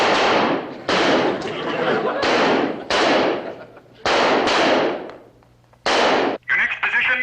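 Rifles fired in repeated loud reports on a shooting range during a standing-position marksmanship drill, each blast followed by a ringing tail, several shots in a row with brief gaps between.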